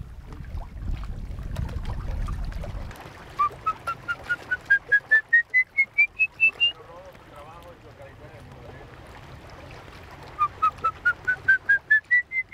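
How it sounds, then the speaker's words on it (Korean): A person whistles rising, repeated notes in two bursts to call birds at a crocodile habitat, over a soft low rumble of wind and water, with faint bird calls in between. "휘파람은 악어의 먹잇감인 새를 불러 모으기 위한 신호."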